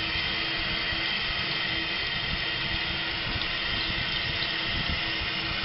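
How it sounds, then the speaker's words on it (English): A toilet tank refills through its fill valve during a commode installation, with a steady, close hissing rush of water running continuously and evenly throughout. "And water is starting to come up into the commode because it will start to fill the trap down here."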